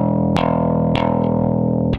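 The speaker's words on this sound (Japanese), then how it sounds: "フリースタイルだと親指を縦にしてこういう感じで弾きます" Electric bass played slap-style with the thumb striking the string, giving three sharp percussive thumb hits over a sustained, buzzing low note with no talk.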